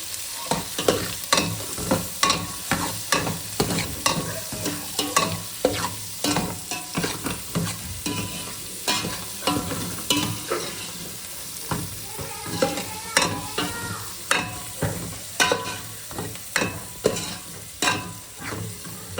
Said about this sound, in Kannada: ಸೊ ಇವಾಗ ಆನಿಯನ್ನು ಮತ್ತು ಬೆಳ್ಳುಳ್ಳಿ ಎಲ್ಲ ಸ್ವಲ್ಪ ಚೆನ್ನಾಗಿ ರೋಸ್ಟ್ ಆಗಿ